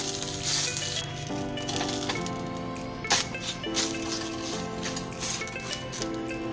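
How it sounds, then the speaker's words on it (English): Banana leaves toasting in hot mustard oil, a steady sizzle and crackle close up, mixed with a sustained tonal background and a few pan clatters. "Toast the banana leaves in mustard oil to make them pliable"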